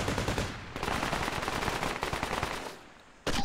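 Sustained machine gun fire in the Project Reality tactical shooter, loud rapid bursts rolling almost continuously, a brief lull, then firing resumes abruptly.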